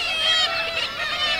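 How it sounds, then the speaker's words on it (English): Nesting kittiwakes on a seabird cliff call loudly and continuously in a close, overlapping chorus of harsh, nasal cries. "we've got nesting kittiwakes here as well."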